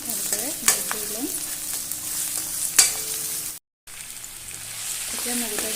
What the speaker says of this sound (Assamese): এতিয়া মগু দালিখিনি মই ভালকৈ ভাজি লৈছোঁ।